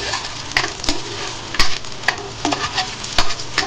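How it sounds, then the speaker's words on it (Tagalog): Oil sizzles steadily as pork adobo ingredients are sautéed in a pan, with sharp stirring and scraping knocks from a utensil every second or so cutting through the close, continuous frying hiss. "Yan ang unahin natin gisahin para medyo mabango yung luto natin."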